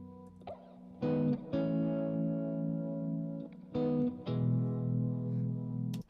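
Electric guitar run through an effects pedal in a live beat-making session, sustained chords swelling and ringing with a processed, chorused tone, restruck in loud bursts with brief dips between them.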